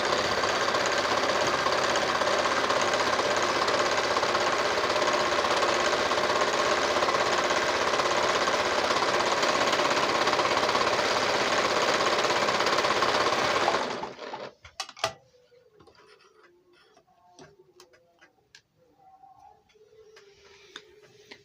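A Janome embroidery machine stitches baby piko edging at a steady, rapid, loud clatter for about fourteen seconds, then stops abruptly, leaving faint clicks and handling noises.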